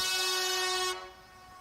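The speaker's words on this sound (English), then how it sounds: "Here's an air horn." A loud, sustained air horn blast holds steady for nearly a second, then cuts off, leaving a faint hum behind.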